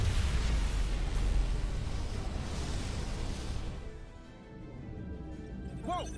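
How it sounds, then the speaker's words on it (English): A dilithium crystal explosion in the video game Star Trek Resurgence: a loud, sustained broadband roar with heavy low rumble that slowly decays over several seconds, then a brief rising tonal chirp near the end. "Whoa! Dilithium explosion."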